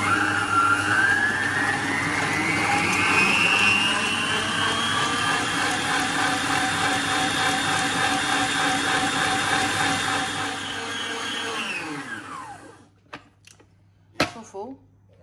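An electric mixer whirs steadily as it beats eggs with sugar for Algerian-style amandine almond cakes, its whine rising slightly in pitch. It runs for about twelve seconds, then cuts out, followed by a few sharp clatters.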